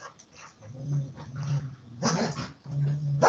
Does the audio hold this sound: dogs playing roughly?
yes